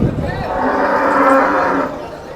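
A cow at a livestock market lets out one long, loud, close moo lasting a couple of seconds, then it fades off.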